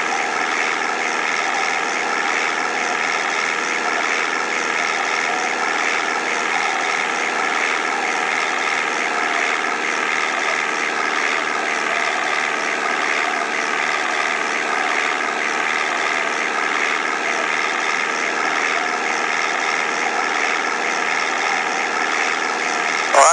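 Steady, unchanging propeller airplane engine drone from the iPhone game Flight Simulator Online 2014, a continuous mid-pitched hum holding at the same level throughout with no voices.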